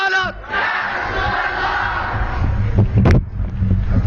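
A large crowd at an Eid-e-Miladunnabi religious gathering roars a chanted response to a Naraye Takbir call, a loud, sustained collective shout swelling across several seconds, with a sharper burst partway through.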